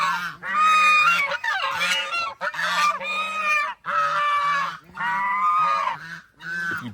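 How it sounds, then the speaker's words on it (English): A group of loud farmyard ducks in rural Tarlac, Philippines, with close, raucous honking calls overlapping in near-continuous bursts, separated by only brief gaps. "Watch these ducks. These things are so loud."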